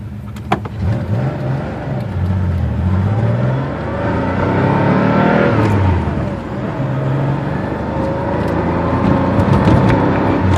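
A Porsche 911 accelerates hard through the gears up to fifth, its engine note rising in repeated sweeps that fall back with each shift, loud and close with steady road and cabin noise throughout.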